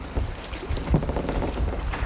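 Double-bladed paddle strokes from a canoe on Loch Ard splash and churn the water in a steady rhythm, with wind buffeting the microphone throughout.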